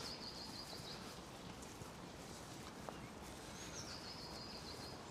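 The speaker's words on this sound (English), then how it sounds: "You can hear birds." Birds chirp faintly at Sprotbrough Falls, with a few thin high calls rising over steady outdoor background noise and the distant rumble of a motorway.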